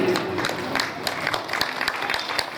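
Clapping from a devotional kirtan gathering, a dense patter of hands running throughout with scattered sharp claps and faint talk mixed in.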